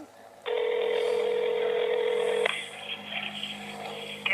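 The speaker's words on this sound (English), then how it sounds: "we got an iPhone on Verizon. I can hear it ringing." An iPhone on the Verizon network ringing out on a call, a loud steady electronic ring tone holding for about two seconds and then shifting into a second, slightly different tone.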